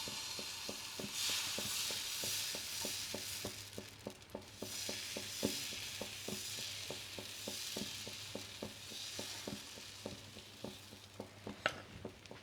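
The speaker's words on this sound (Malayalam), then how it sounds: "നന്നായിട്ടൊന്ന് പൊരിയട്ടെ." Ghee roast sizzles in a pan, giving a continuous soft frying hiss. Regular light clicks and taps from stirring or a utensil against the pan run through it, and a brief sharper clank comes near the end.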